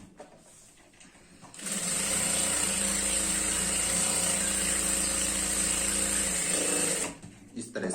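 A sewing machine runs a side seam on a skirt in one continuous, loud whirring run lasting several seconds, with quieter handling noise before and after.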